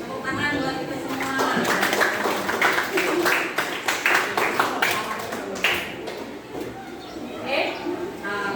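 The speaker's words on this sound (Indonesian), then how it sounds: "Tepuk tangan buat kita semua." A school class claps in a burst of applause that gradually thins out, close and lively, with children's voices and a teacher talking over and after the clapping.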